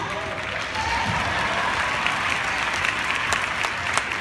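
Audience applause breaks out at a Total Life Changes event in Atlanta, steady dense clapping filling the room from the second mark onward with no one talking over it.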